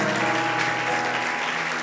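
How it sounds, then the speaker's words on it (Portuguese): Church congregation applauding during an evening worship service, a steady dense clapping wash throughout, loud and close with no talk over it. "Você pode aplaudir o Senhor por essa palavra nessa noite?"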